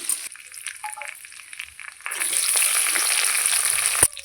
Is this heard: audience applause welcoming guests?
no